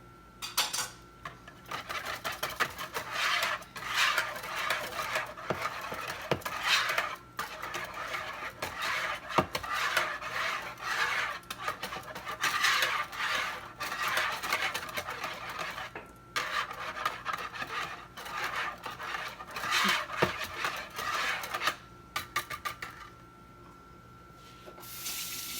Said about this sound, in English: I think I'm going to go ahead and try to use my whisk, make sure it's really incorporated well